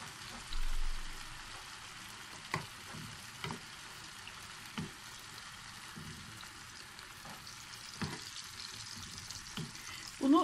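Eggs fry in a pan with a steady, moderate sizzle and hiss, broken by a few soft clicks and scrapes of a utensil, with no one talking.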